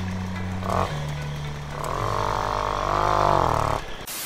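A motorbike engine runs after starting, loud and close, its buzzing note rising and falling through revs and cutting off near the end; no talk.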